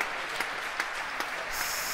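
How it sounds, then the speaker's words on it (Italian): Crowd applause at a tennis match, a steady burst of clapping from spectators with a few louder claps standing out, filling the whole moment without any talk. "Applausi"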